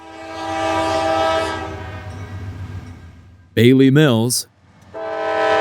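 A train horn blasts loud and close for about a second, with a rumbling train passing before and after it on the line at Selma, North Carolina, a rail junction with a diamond crossing. A voice speaks briefly.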